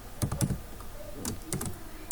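Quick, close keystrokes on a computer keyboard as code is typed, a few short clusters of taps with small gaps between them and no talking.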